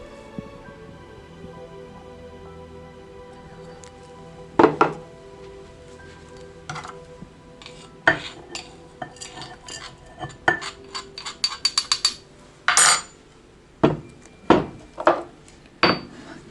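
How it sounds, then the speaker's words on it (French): Clove heads being crushed for a vinegar remedy: a series of sharp knocks and grinding taps, sparse at first and then coming in quicker bursts, close and fairly loud, with no talk. "ce qui doit être écrasé, c'est la tête du clou de girofle"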